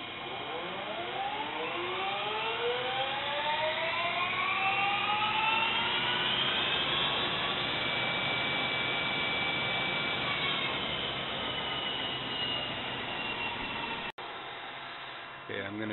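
A Harrison Alpha 1550 machine running at high speed in high gear gives a loud, steady whine whose tones sweep upward as it spins up, then holds, cutting off abruptly near the end.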